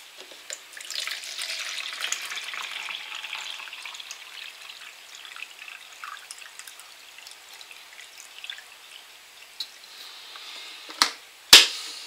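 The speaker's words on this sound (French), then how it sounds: "On va prendre un petit verre mesureur comme ça et on va prendre 550 ml d'eau." Water runs steadily from a tap into a small measuring cup, filling it with 550 ml of water as a faint continuous trickle and splash, ending in a couple of sharp knocks.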